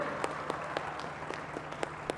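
Spectators at a dahi handi human pyramid practice clapping, a thin, sparse applause with individual claps fairly distinct and moderately distant.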